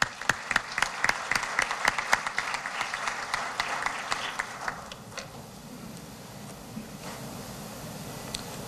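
An audience at a university ceremony welcomes a navy commander with applause, sharp close claps that thin out and fade after about five seconds into quieter room noise.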